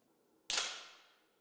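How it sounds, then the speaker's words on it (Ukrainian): A single sharp rifle shot at targets during youth shooting training at a sports school, a sudden loud crack with a short decaying tail, heard alone. "а далі вже стрільба по мішенях"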